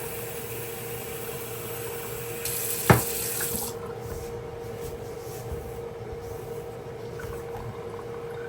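A kitchen tap runs steadily while brown stew chicken is being cooked, with water added to a flour and cornmeal mixture. The hiss stays constant, with one short knock partway through and no talk.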